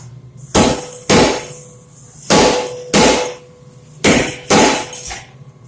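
Six heavy power hammer blows on hot metal ring out in pairs, each sharp metallic strike decaying quickly, with pauses between the pairs.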